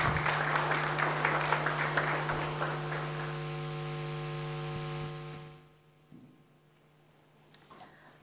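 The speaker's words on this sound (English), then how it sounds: "Please, let's give the Governor and the MPC a round of applause." Applause for the Governor and the Monetary Policy Committee at a central bank repo rate announcement, clapping over a steady electrical hum, fading out after about five seconds, leaving the hum and a faint tick.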